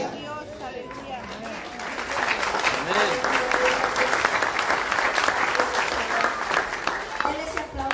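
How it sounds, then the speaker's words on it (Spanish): A congregation at Templo Getsemani church in Apopka, Florida claps, starting moderately and swelling into a fuller rhythmic applause, with voices speaking and calling out over it. "Denle ese aplauso más fuerte a Dios"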